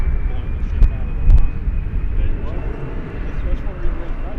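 An American Eagle CRJ 700 ER jet begins its takeoff roll on runway 18 left at Dallas-Fort Worth, a low engine rumble rising in the distance while someone talks over it.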